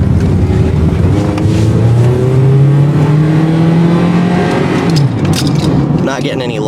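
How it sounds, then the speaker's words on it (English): A cold 1999 Toyota Corolla engine revs up close by, its pitch climbing steadily for several seconds, then dropping back to idle; a voice speaks over it. "You really want to rev your engine up like that when the engine's cold."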